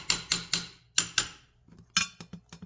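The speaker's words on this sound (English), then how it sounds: "grab your super duper hammer" A hammer taps pins into a Colt 6920 upper receiver during a Geissele rail install: sharp metallic clicks in quick groups, three rapid taps, a pause, two more, then a faster cluster of lighter strikes, close and alone.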